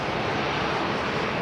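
An airliner taxiing off the runway at London Heathrow Airport, a loud, steady broadband engine roar with no breaks across the short stretch.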